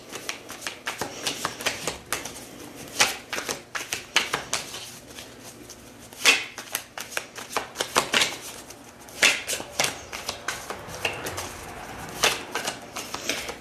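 Tarot cards being shuffled by hand in repeated bursts of crisp riffling and soft slapping, fairly close and alone, with brief pauses between shuffles.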